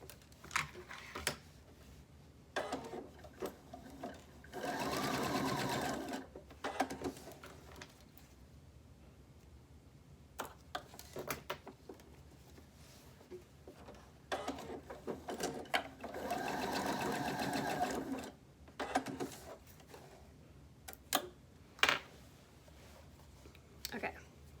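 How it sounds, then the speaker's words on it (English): A sewing machine stitching a fabric face mask with a pocket runs in two close, steady whirring bursts of a few seconds each, separated by quiet handling and small clicks. "And I'm going to stitch the other side."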